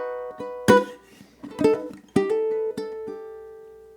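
A ukulele strummed up close through a measure of a song, with sharp accented strums and a few harder hits, and the chords ringing out in between.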